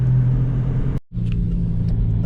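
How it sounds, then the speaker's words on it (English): A vehicle engine rumbles steadily on a road from behind a moving car, a loud constant low drone that dips sharply for a moment near the middle, then returns at full strength. "there's a truck behind me"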